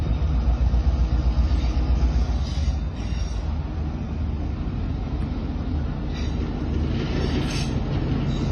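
A model train pulls a string of cars out of yard track 10 and over to track 1, giving a steady, close rumble with faint wheel clatter throughout and no talking.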